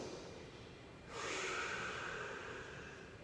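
A person exhales through the nose during a floor core exercise for low back pain, giving one soft, close breath that swells after a second of quiet and trails off slowly.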